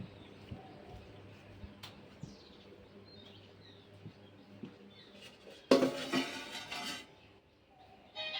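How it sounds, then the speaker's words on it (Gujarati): Kitchen utensils being put away make scattered light clinks of steel dishes, with a sharper louder clatter of pots partway through, while faint bird chirps sound in the background. "જો વાસણ ગોઠવી દીધા છે."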